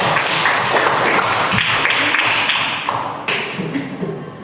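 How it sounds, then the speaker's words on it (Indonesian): Students in a classroom give a round of applause, dense continuous clapping that stays loud and then thins slightly toward the end. "maka kita berikan aplaus lagi"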